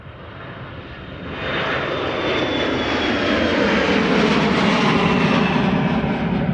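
Airliner jet engines roar at Amsterdam Schiphol Airport on a sunny morning, rising and swelling into a loud, steady rumbling whine as a departing plane spools up and rolls.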